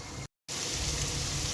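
Pieces of boti meat are being fried in oil for tikka boti rolls, making a dense, even hiss of sizzling close to the pan, cut off by a brief gap of silence before it resumes.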